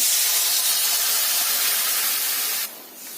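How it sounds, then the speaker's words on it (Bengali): Water for an egg curry boils hard in a pan with a loud, steady hissing bubble at close range, then drops abruptly quieter near the end. "ফুটছে"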